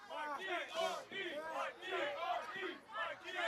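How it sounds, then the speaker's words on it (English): A wrestling crowd chants for D.R.E. in a steady rhythmic call, many voices together repeating the chant in even pulses, fairly full but slightly distant. "The crowd now starting to chant for the D.R.E."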